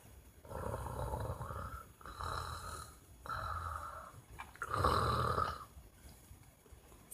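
A voice imitates ordinary snoring, giving four slow, rasping breaths spaced about a second apart, each a low throaty rumble. The fourth is the loudest. It sounds close and stands alone, with no talk.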